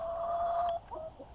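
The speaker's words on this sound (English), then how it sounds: "Look at this chicken. It has stripes." Chickens on a small farm cluck close by, a sustained loud call giving way after a break to a few shorter, softer clucks, with no talking.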